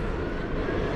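Boeing 737-800 airliner, American flight 878, rolling at DFW Airport at night, a steady, broad jet engine roar held at an even level throughout.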